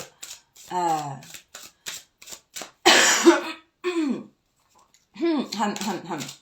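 A single harsh cough or throat clearing close up, breaking into quiet speech before and after.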